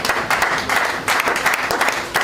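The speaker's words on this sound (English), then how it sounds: "let us clap ourselves" Audience applause at an award ceremony, a crowd clapping steadily for a couple of seconds with swells of louder bursts, fairly close and filling the room.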